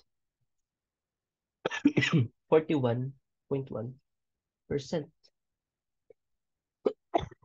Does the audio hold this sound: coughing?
yes